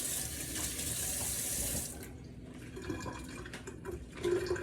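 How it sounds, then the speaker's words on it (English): A tap runs at a kitchen sink while hands are washed, a steady rushing water stream that cuts off midway, followed by quieter splashes and drips, alone without talk. "Let me wash my hands."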